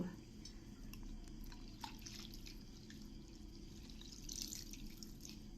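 Water drips and trickles close by as boiled spinach is squeezed out by hand for palak paneer, quiet splashes and drops over a low background.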